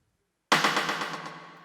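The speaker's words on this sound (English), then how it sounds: "So it's a hit. It's one of my hits and one of my rim shots" Drum fill in an Afro house beat made in FL Studio, a sudden burst of rapid hits and rim shots that starts after a moment of silence and rattles on in quick succession, decaying gradually.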